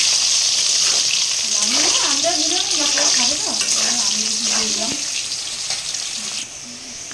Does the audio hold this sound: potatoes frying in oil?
yes